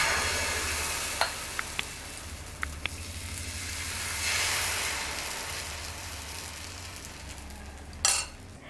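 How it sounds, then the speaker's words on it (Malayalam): Dosa batter meets a hot pan for uttapam, a soft, steady sizzle with faint hiss, a few light clicks of a utensil and a brief louder scrape near the end, heard up close without talk. "പാൻ ഒന്ന് ചൂടാകുമ്പോഴത്തേക്കും നമുക്കിനി ഇതിലേക്ക് നമ്മുടെ ദോശമാവ് ഒഴിച്ചു കൊടുക്കാം"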